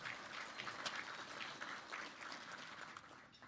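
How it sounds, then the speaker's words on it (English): Audience applause at a chamber of commerce business breakfast event, a steady wash of many hands clapping throughout, moderately distant and fairly quiet, with no talking over it. "Can we give them a round of applause?"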